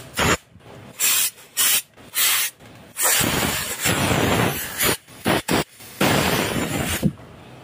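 Pressure washer, rigged to run off a shop compressor, spraying water on the CVT of a Honda Click125i scooter in a workshop: loud hissing bursts in short repeated blasts, then a longer continuous spray with more bursts, no talk.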